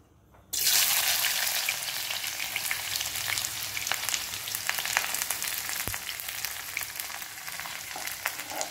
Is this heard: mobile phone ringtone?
no